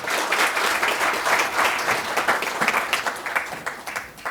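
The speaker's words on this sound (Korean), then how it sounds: "큰 박수로 부탁드립니다" A seated audience at a Korean energy-policy forum welcomes a National Assembly member with hearty applause, a dense, continuous patter of many hands that stays strong before easing off near the end.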